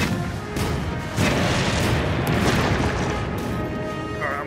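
Cannon fire in Monster Hunter: World booms loud and dense, with heavy blasts and crashes rolling together into a continuous barrage throughout.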